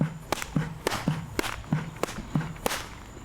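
A series of sharp leather pops from a baseball smacking into a Rawlings Heart of the Hide catcher's mitt, about six catches spaced roughly half a second apart, close and crisp.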